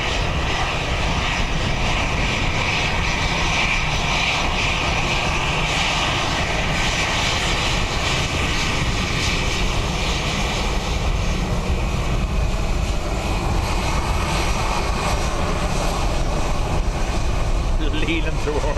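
A Ryanair jet airliner lands at Dublin Airport on a windy day, its engine roar steady and loud throughout with wind noise, while a voice talks over it.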